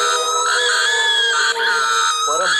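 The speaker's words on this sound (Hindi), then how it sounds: "और साथ ही नंदिता के चीखने की आवाजें आ रही थी।" A woman screams loudly and continuously in a high, strained pitch, her voice wavering and breaking toward the end.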